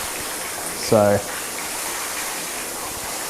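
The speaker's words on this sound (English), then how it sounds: "And as you can see, the water comes straight off as soon as we stop flooding it." Water floods over a car panel coated with spray sealant, giving a steady rushing wash throughout. A voice speaks briefly near the start.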